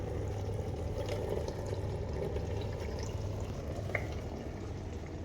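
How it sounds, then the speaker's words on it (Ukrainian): An ELEYUS DWB 45036 dishwasher makes a quiet, steady running noise with faint drips and soft trickling water inside, plus one small brighter drip near the end. "А коли ще додаються ось ці звуки, як десь воно щось капа або тече."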